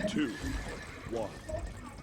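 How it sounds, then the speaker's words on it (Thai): A horse mount in the Paladins video game neighs twice with a short whinny, close and clear, along with soft hoofbeats and someone talking over it. "เราก็อัพม้า เราก็วิ่งไปครับ"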